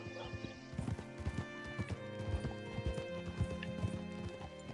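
Horse hooves clip-clop in the video game Red Dead Redemption 2, a steady walking rhythm over game music, with a brief whinny.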